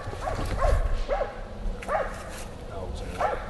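Dogs bark and yip in short bursts during a hog hunt outdoors, several sharp calls spaced across the moment amid rustling and movement.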